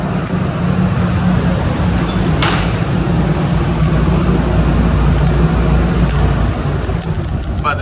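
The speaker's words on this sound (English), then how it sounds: "It's going to be a little loud. I'll turn off the vacuum." A vacuum runs in the machine room of an orthotics and prosthetics lab, a loud, steady roar that holds unchanged from start to finish.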